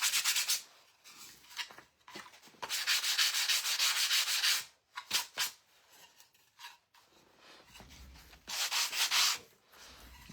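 Hand sanding painted, stained wood on a door tag, with bursts of rough scraping strokes separated by short pauses, close and fairly loud.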